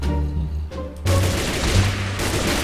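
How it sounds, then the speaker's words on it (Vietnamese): Gunfire from armed zombies in a Minecraft survival game on a zombie-filled island rattles in dense, sustained bursts, loud and close, cutting out briefly before resuming heavier. "Có súng hả? Ui ui nó bắn mình kìa."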